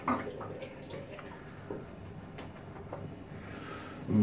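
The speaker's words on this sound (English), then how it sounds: "rinse my hands" Running tap water splashes over hands being rinsed during a shave, a steady close wash with a few drips and a louder gush at the end.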